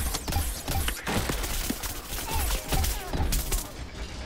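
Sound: gunfire in video game Plants vs. Zombies: Garden Warfare 2

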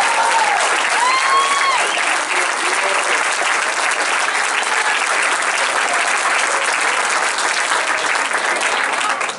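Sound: audience applause for U15 development team

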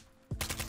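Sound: gunfire in video game Call of Duty Modern Warfare 2

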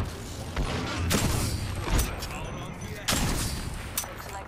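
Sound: sniper gunfire in video game Apex Legends

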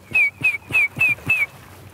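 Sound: person whistling

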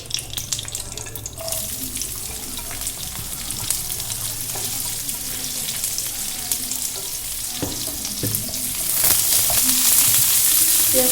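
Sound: chopped onions frying and being stirred in oil

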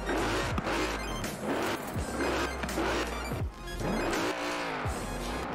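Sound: Mercedes-AMG GT 63 S car accelerating in Forza Horizon 4 video game

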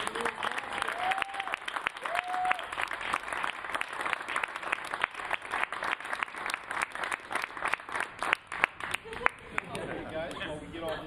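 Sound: applause

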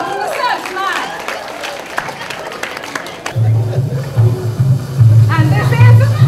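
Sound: audience clapping at Jamaica Emancipendence event

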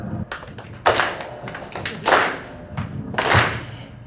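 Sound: audience clapping

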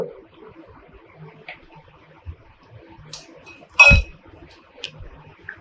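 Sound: stirring sweet corn with butter and chaat masala

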